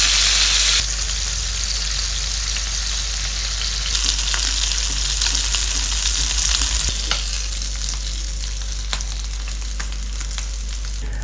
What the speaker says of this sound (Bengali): আমি প্রথমে একটু কালো জিরা ফোড়ন দিয়ে দিলাম